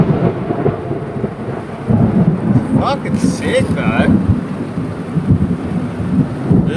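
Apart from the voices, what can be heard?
thunderstorm with thunder outside a van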